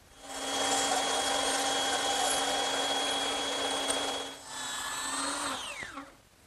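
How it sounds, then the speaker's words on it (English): Bandsaw cutting scallops into a wooden pencil post bed post, a steady whining motor hum with a tonal blade note for several seconds, a brief dip mid-cut, then the pitch sweeps down as the saw spins off. "but I'm going to use the bandsaw."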